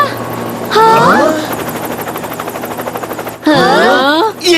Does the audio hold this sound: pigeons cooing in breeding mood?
no